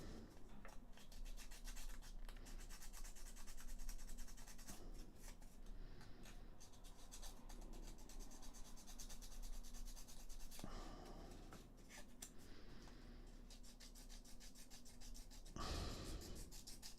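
Quiet, continuous rubbing of sandpaper over small wooden forklift model parts, soft scratchy strokes that go on almost without pause, heard close up.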